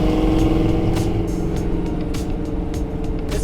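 1970 Ford Bronco U-100 with a rebuilt original 302 V8, RV cam and Holley Sniper fuel injection, heard from the cabin while driving, a loud, steady low engine rumble with road noise and small periodic thumps.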